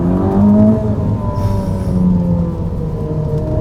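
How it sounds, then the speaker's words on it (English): A 1000 HP Ferrari driven flat out on a damp road roars loudly and close, its engine note rising and falling through revs under steady low rumble, with no talking. "I think it's the fastest car I've ever driven."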